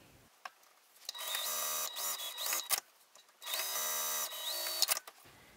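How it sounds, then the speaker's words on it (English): A sewing machine stitches the top and bottom seams of a clutch wallet in two steady, close runs of rapid whirring, each about a second and a half long, separated by a pause with faint handling noises. "we're going to sew across the top and the bottom with a quarter of an inch seam allowance"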